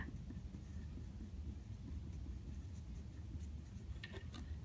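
Pen or pencil scratching on paper while working through a long division math problem, a soft continuous scribbling with quick strokes, faint and close.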